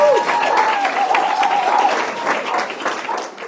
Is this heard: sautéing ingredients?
no